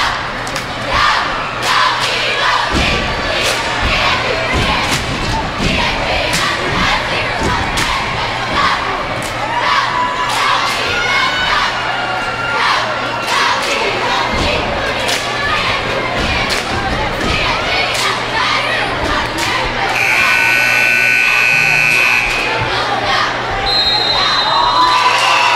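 Loud, sustained crowd cheering and shouting fills a high school gym at a Kentwood versus Northeast boys basketball game as cheerleaders take the floor, with ball thumps, scattered yells and bursts of noise throughout.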